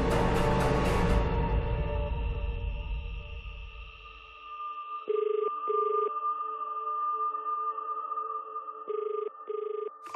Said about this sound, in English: I tried to call her a bit after 5:30 and just kept ringing and ringing and no one answering.